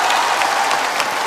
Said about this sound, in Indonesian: Tepuk tangan penonton bikin lu tidur lebih dalam lagi